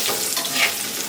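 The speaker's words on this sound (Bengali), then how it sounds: "ফোড়নে দিব রাঁধুনি, জিরে আর ধনে।" Radhuni, cumin and coriander seeds with dried chilli crackling in hot oil, a dense, bright sizzle heard close up and unbroken for a moment, with no voices.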